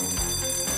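A short, bright bell ring with sustained metallic tones, heard alone and fairly close.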